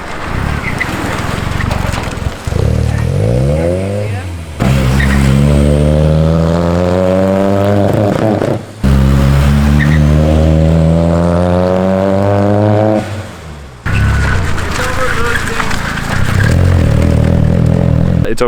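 A turbocharged car engine, just repaired after a loose coolant line was tightened, revs loudly and repeatedly, each pull climbing sharply in pitch before dropping off, with brief pauses between bursts and little talk.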